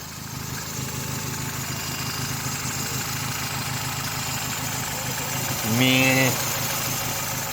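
A Vauxhall Astra mk5 engine with a recently replaced timing chain idles steadily and close by, a low even rumble, while people talk over it and a brief voice interjects near the end.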